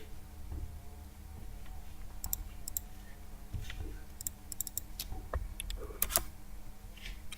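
Someone types a number on a computer keyboard while working in SolidWorks CAD software: a few light, scattered key clicks over a quiet room hum.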